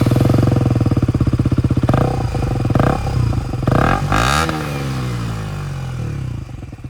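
Motorcycle engine fitted with an Akrapovic full-carbon exhaust with the baffle removed, idling with a loud throbbing pulse and then blipped through sharp revs that rise and fall, close and raw with no talk.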